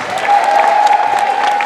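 A concert audience at the Customs House claps and cheers in a dense, loud burst of applause, continuous from start to finish.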